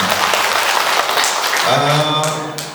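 Dense applause from a crowd, loud and steady, with a voice starting to speak over it near the end as the clapping fades.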